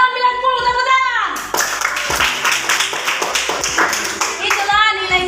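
A classroom of children claps hands together in a loud, ragged burst of overlapping claps, with voices heard just before and after the applause.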